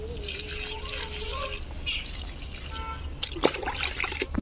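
Water is poured over freshly planted chilli plants in a field, giving a continuous close trickle and splash with a few brighter splatters near the end.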